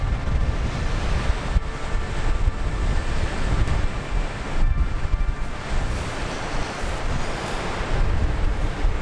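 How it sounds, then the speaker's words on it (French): Ocean waves crash and churn continuously against a sea cliff while strong gusting wind buffets the microphone, producing a loud, dense roar with no talking. "vous voyez les vagues qui vont directement se jeter sur la falaise"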